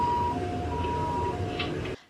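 An ambulance siren at an accident scene at a sky playground in Changhua, Taiwan, sounds as a steady two-pitch wail behind road noise, cutting off abruptly at the end.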